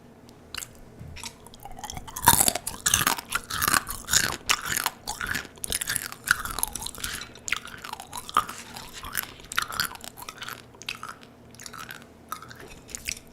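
Close, crunchy chewing and biting on small marinated mini crabs (chilgejang), with irregular wet crunches and squishes carrying on steadily with no talking.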